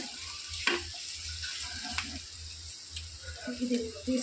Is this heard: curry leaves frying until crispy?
yes